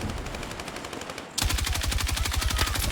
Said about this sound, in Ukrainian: Там снайпери якісь самотні пострілюють.